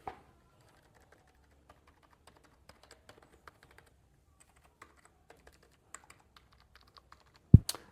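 Keys are pressed on a Zebronics wireless keyboard. Sparse, faint, close clicks and taps sound at an uneven typing pace, and a sharper knock comes near the end. There is no talking.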